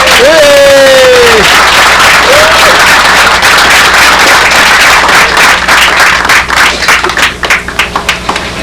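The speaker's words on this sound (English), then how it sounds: "So let's have a big applause for these judges." An audience at a fly-in awards ceremony applauds the judges, loud and close, with a whistle and cheers early on, then the clapping thins into scattered claps.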